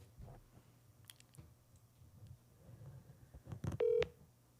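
A phone dials out to set up a three-way call: faint clicks and taps, then a short run of beeping dial tones near the end, fairly quiet.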